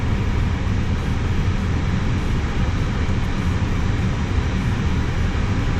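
Steady, loud droning whine of an Airbus A320 auxiliary power unit running on the ground, a constant broadband roar with no breaks or talk.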